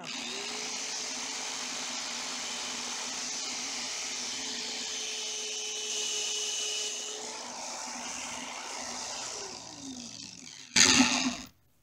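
A small power tool whines steadily as it polishes a metal cribbage peg, with a sustained high hum that shifts pitch midway and winds down, ending in a brief loud clatter.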